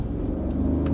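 Mercedes SL55 AMG accelerating hard in first gear, a loud steady close engine roar and rumble with a rising whir, no talking.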